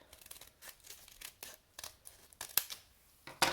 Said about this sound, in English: there's a little dotted line where you want to cut right there. So I will do that. Snip, snip.